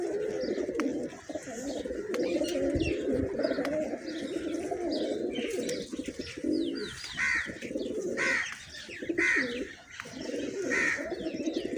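Pigeons coo steadily in a loft, a continuous layered murmur of soft throaty calls, with brief chirps and faint wing or movement sounds scattered throughout.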